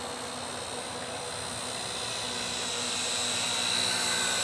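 A small XK K123 AS350 micro RC helicopter whines in a steady, high buzzing drone with rotor hum as it flies and comes down to land, close by and continuous, slowly growing a little louder.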